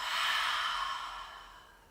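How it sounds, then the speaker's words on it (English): A single deep exhale through the mouth during a breathing exercise, a close, airy whoosh that peaks early and fades gradually over about two seconds. "take a deep breath in and a deep breath out through the mouth"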